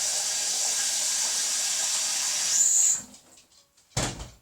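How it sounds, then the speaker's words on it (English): Water pours steadily while boiled eggs are drained in a kitchen, a broad hiss that runs for nearly three seconds, then stops, followed by a couple of faint knocks and a short clatter near the end. "drain these eggs and stick in some cold water."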